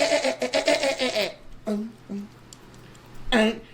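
A person imitates a baby goat, voicing a few short, nasal bleats with pauses between them, close to the listener after a stretch of louder voice.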